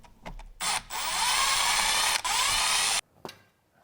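Bolts on a ZF 6HP transmission pan being broken loose: a few short clicks, then a loud, steady mechanical whir of about two seconds that cuts off abruptly, followed by a softer clack close by.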